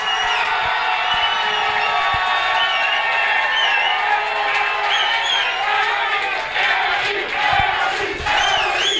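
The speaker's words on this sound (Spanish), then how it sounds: "Harto aplauso a las cabras, harto aplauso" Studio audience at a Chilean TV dance competition semifinal cheering and applauding loudly and steadily, with shouts and whoops over dense clapping throughout.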